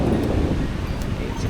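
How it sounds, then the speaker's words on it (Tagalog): Strong wind gusting at a Palawan beach during a birthday gathering, a steady roaring rush buffeting the microphone with a faint wash of surf underneath, constant and loud. "sobrang lakas ng hangin"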